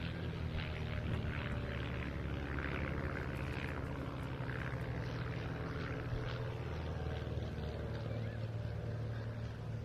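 Firebirds aerobatic display planes pulling up and splitting at show centre at Bournemouth Air Festival, a steady, distant propeller engine drone over a continuous low rumble with no clear changes.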